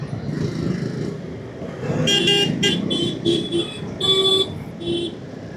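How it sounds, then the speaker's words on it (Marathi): Horns honk repeatedly in morning traffic on a busy Pune airport road during a motorbike commute, several short and longer blasts over a steady rumble of engines. "हा हॉर्न वाजवतो एवढं"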